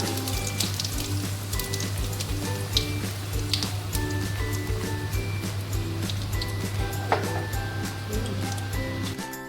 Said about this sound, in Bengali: এই যে সর্ষের তেল দিলাম এই মাছটা রান্না করতে এই যে তেল দিলাম প্রথমে গোটা জিরে আর শুকনো লঙ্কা দিলাম